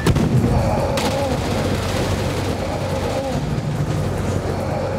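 Gunfire in the PS5 VR arcade shooter Gungrave, a dense, steady wash of shooting and explosions with a sharp crack near the start, loud and continuous under faint game audio.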